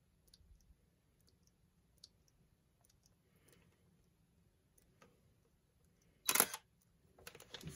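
A quiet stretch of faint ticks and clicks, then a short, loud burst of electronic chirping near the end from a Tamron lens adapter's focus-confirmation chip, followed by a softer repeat.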